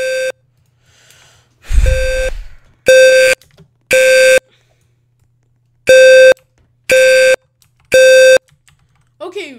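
Hotel fire alarm system in the Roblox game Welcome to Roblox Building sounds in loud, evenly spaced electronic horn blasts of about half a second each, with a few quieter clicks and a low thump between them.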